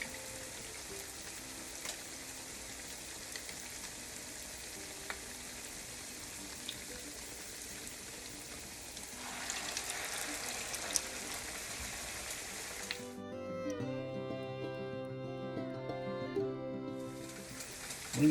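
Hot water cornbread patties fry in oil, four at a time, giving a soft, continuous hiss and crackle that holds steady throughout; near the end a faint musical tone sounds over the sizzle.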